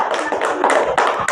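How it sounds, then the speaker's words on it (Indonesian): Children clap their hands together in an elementary school classroom, a quick burst of claps in uneven rhythm heard up close. "tepuk tangan."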